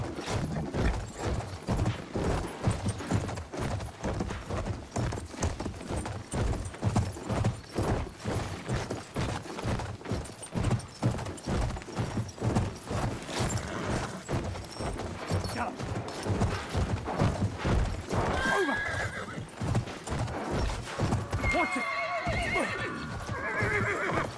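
Horses in the Battlefield 1 video game gallop with rapid, loud clip-clop hoofbeats throughout, joined by repeated whinnies and neighs near the end, among busy battle game sounds.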